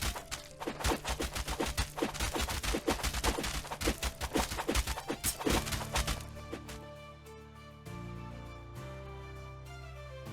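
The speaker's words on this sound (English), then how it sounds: "Now footsteps, strikes, swings, and more have appropriate sounds." In the game Mainland, a rapid, dense run of footsteps, strikes and sword swings clatters as sharp, crackling hits, then gives way to quieter sustained tones after about six seconds.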